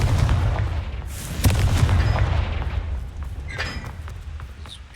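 A Confringo blasting spell in Hogwarts Legacy erupts in heavy, booming explosive bursts, loud and rumbling throughout, with a sharp crack partway through before the roar slowly fades.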